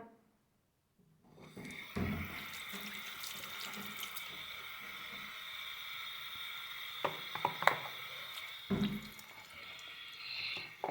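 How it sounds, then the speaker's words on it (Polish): Water runs steadily from a tap into a sink after a moment of silence, with a few clinks and splashes over the flow. "włączam wodę"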